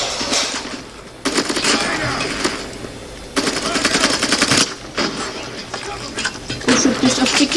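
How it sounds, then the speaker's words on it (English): Call of Duty Mobile gameplay: rapid automatic gunfire in repeated bursts with sharp impacts, loud and close, including a grenade blast amid the shooting. "Oh shoot, there's a freaking grenade!"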